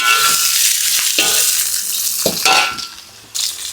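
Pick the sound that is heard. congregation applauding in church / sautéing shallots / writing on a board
sautéing shallots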